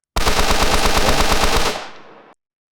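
Rapid automatic fire from a super assault rifle in a GTA-style video game built in Godot: a single loud, close burst of about one and a half seconds that fades off quickly, with no speech.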